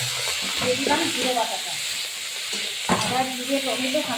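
Onion and green chili sautéing in a pan, a steady close sizzle broken by scraping stirring strokes, with a voice talking faintly underneath.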